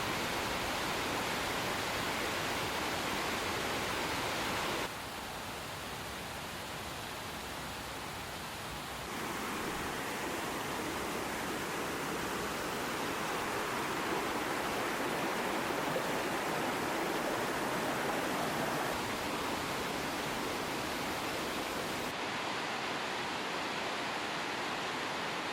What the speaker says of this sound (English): the water's rhythmic roar is almost meditative